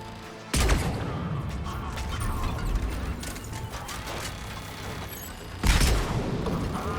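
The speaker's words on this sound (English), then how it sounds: "Ó, a bomba estourou." A bomb blast in Mass Effect 3, set during a rescue at Grissom Academy: a sharp, heavy boom erupts early, a dense rumble of debris and mechanical clatter follows, and a second loud burst arrives near the end.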